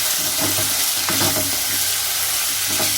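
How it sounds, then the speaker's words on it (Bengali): Potato and ridge gourd are added to spiced masala frying in oil and stirred, giving a steady close sizzle with scraping spatula strokes throughout and no talking. "এবার এর মধ্যে সবজিগুলো দিয়ে দেবো। আলু আর ঝিঙেটা দেবো"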